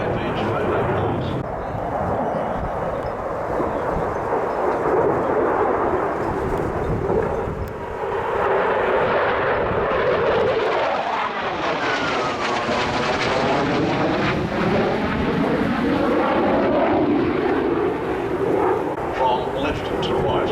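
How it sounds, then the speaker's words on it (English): A Lockheed Constellation propeller airliner at an air show speeds up for a fast pass, its engine drone swelling and sweeping in pitch as it closes and passes, with a commentator talking over it. "Cargo now accelerates to the 800 plus kilometres per hour for a high-pitch photo pass"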